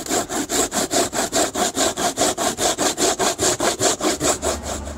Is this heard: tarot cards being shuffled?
no